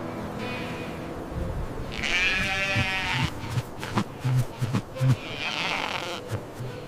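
Two drawn-out, quavering sheep bleats ring out a few seconds apart, close and clear, over a soft farm background.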